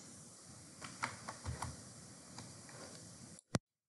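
Light typing on a computer keyboard during spreadsheet work, a few soft scattered keystrokes at low level, ending with one sharp click.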